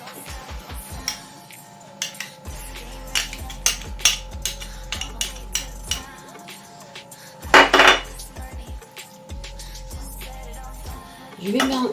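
Butter and vanilla sugar mixed in a bowl, with a utensil scraping and knocking against the sides in irregular bursts of clinks and taps, close and fairly loud, with a brief louder clatter partway through.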